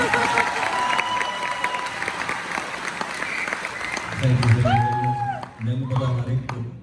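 Concert audience at a live show in Seattle clapping in a broad, sustained wash of applause, with a voice speaking over it and brief melodic tones near the end.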